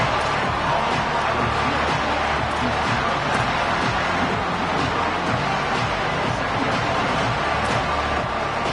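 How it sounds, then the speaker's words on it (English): A loud football stadium crowd at a UCLA game roars steadily and continuously, a dense wall of cheering that fills the air without a break. "This crowd, full throat, splitting the eardrums"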